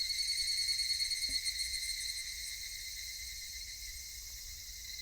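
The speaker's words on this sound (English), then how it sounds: "Only the cry of the cicadas remained, annoyingly loud." Loud, steady cicada drone in a video game, a continuous high-pitched buzzing that holds constant throughout, with a faint low rumble beneath.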